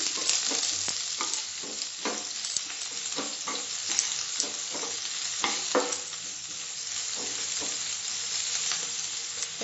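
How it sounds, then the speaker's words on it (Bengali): Sliced onions fry in a pan after curry leaves, a continuous close sizzle with irregular scraping and clinking as a spoon stirs them, no voices. "এবার স্লাইস করা পেঁয়াজটা দিলাম। ভালো করে নেড়ে দিচ্ছি।"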